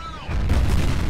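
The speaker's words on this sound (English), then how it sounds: "Grenade." A grenade in the shooter game F.E.A.R. goes off as a sudden loud, low explosive boom that rumbles briefly after a quieter moment, close and forceful.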